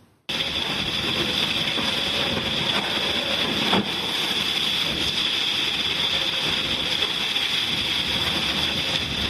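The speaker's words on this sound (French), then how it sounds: "On monte à bord de Virbac Paprec 3 avec Jean-Pierre Dick." Virbac Paprec 3, a Vendée Globe racing yacht, sails hard at sea, giving a loud continuous rush of wind and water noise with a brief thump partway through, and no voices.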